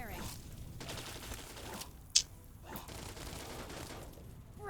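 Weapons fire during a fight with a Reaver in Fallout 3, with repeated bursts of gunfire throughout, one sharp, louder shot near the middle, and a dense, mid-distance volley texture.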